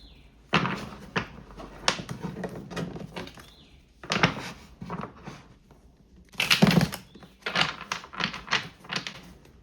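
Tarot cards are shuffled in quick, crisp riffling bursts, several separate rounds with brief pauses between, close and fairly loud.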